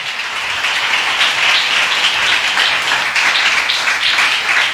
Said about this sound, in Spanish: Le damos un aplauso al Paracletos.